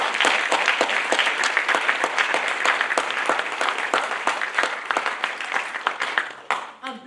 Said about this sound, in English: can we get a round of applause for just everybody who is here tonight?